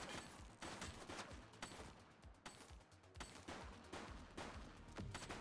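Gunfire in the police video game The Precinct, a rapid series of sharp, loud shots in bursts with brief gaps, dense and close throughout without talk.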